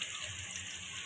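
Beef hits hot oil in a pan of browned onions and whole garam masala, giving a steady, close, moderately loud sizzle and crackle that runs without pause for about a second, with no voices.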